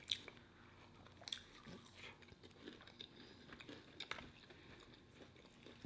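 Someone chews a chicken sandwich with a crispy patty close to the mic, soft repeated bites and crunchy mastication coming in irregular bursts at low volume, with no talking.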